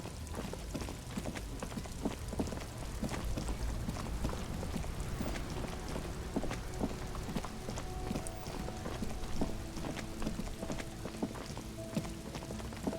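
Steady rain falls in the video game Disco Elysium, a dense patter of drops and ticks that runs evenly through the whole stretch with no voices.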